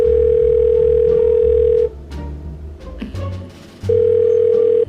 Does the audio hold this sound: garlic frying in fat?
no